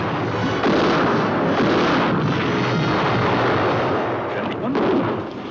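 Artillery fire in a trailer for the war film Tobrouk, commando pour l'enfer, set in the desert, with continuous heavy booming blasts rolling together into a loud dense barrage.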